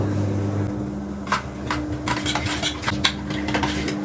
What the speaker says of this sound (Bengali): আমার মিষ্টিটা স্বাদ করার জন্য আমি গুঁড়া দুধ মিশিয়ে নেব